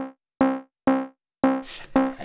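Short Moog Mother-32 synth sample triggered from an Elektron Digitakt: four clean, pitched harmonic notes in a steady rhythm, each decaying quickly, with the last two gaining a noisy, gritty tail.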